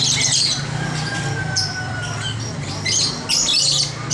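Caged birds at a bird market, including zebra doves and other songbirds, squawk and chirp loudly in repeated sharp bursts over a busy, constant background hum.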